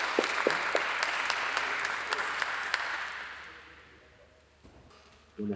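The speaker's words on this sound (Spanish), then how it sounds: "Les pido un fuerte aplauso para recibirlo." An audience at a health lecture applauds with dense, steady clapping. A few louder claps stand out near the start, then the applause fades over several seconds and stops abruptly at the end.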